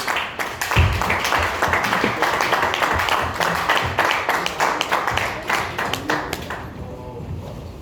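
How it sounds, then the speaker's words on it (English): An audience welcomes a speaker to the stage with applause. Close, fairly loud clapping runs steadily for several seconds with distinct individual claps, then thins out and stops near the end. "Give him a round of applause."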